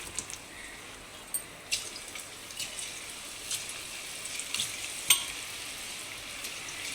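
Cauliflower pakoda fritters fry in hot oil, giving a soft steady sizzle with scattered pops and crackles at moderate distance.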